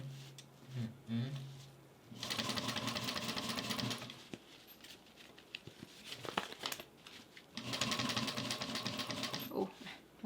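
An industrial Juki sewing machine stitches at about a 5mm stitch length in two loud, fast-rattling bursts with a pause between them, along with some handling noise and a voice nearby.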